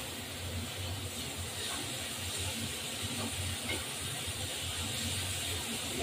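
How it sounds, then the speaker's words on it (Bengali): Prawns fry in a pan with onions, giving off a steady, soft sizzle and hiss that carries on evenly at low volume with no talking. "একটু ভাজা ভাজা হবে চিংড়ি মাছটাও।"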